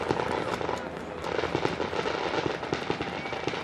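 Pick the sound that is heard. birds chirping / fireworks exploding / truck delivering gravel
fireworks exploding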